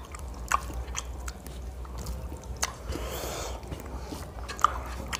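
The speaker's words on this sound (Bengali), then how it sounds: "ভাতটা মাখো, মেখে একটা ঢেলে নাও পুরো।" Cooked rice being mashed and mixed with food by hand at a home meal of fresh vegetables, giving soft, wet squishing and sticky smacking sounds with a few small clicks, close and steady.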